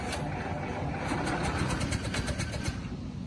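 A 1922 Model T Doctor's Coupe engine cranks and tries to catch with a flooding carburetor, a close, steady run of rapid chugging pulses with no clean start.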